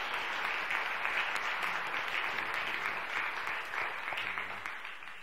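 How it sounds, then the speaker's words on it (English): A church congregation applauds its youth at a Presbyterian Sunday worship service, steady broadband clapping from many hands that holds evenly throughout and fades slightly near the end, with no voices over it. "will you join me in a round of applause for our youth and their accomplishments?"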